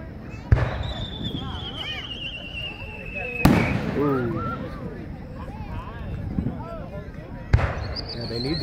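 Three loud firework booms spaced a few seconds apart, with whistling streaks and crackles between them, over a distant crowd murmur.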